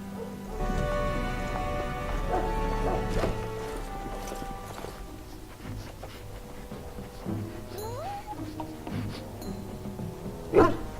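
In the fantasy video game Dragon Age, a dog barks several times amid a busy game soundscape of clopping hooves, pattering rain and sustained musical tones, the barks fairly close and mid-level in loudness.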